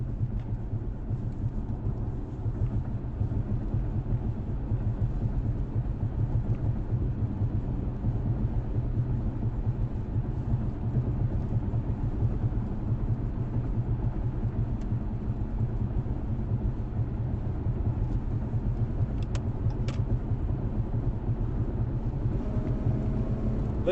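Car interior on a drive, steady low rumble of engine and road noise at a constant level with occasional faint rattles; no talk in between.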